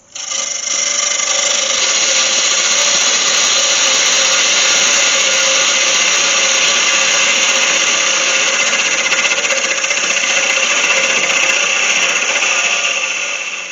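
A wood lathe cuts a honey pot blank held by a tenon in a 4-jaw chuck, giving a loud, steady, close whirring and scraping hiss that holds unbroken for the whole stretch.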